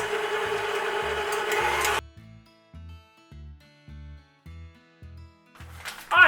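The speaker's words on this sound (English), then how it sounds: "We're going to go ahead and mix these until we get a good fluffy consistency." Egg yolks beaten with an electric mixer until fluffy: a steady, fairly loud whir that cuts out, followed by a run of short, regular clunking pulses and a brief noisy burst at the end.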